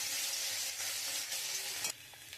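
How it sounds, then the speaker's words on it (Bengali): Dry chillies, nigella seeds and a bay leaf hit hot leftover fish-frying oil and sizzle in a loud, steady hiss with a few crackling bursts. No voices are heard. "আমি ওই মাছ ভাজার তেলের মধ্যে শুকনো লঙ্কা, কালো জিরে আর তেজপাতা ফোড়ন দিয়ে দেবো।"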